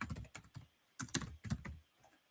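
Keys clacking on a computer keyboard in quick bursts of several strokes, close and crisp, with short pauses between groups and no talk.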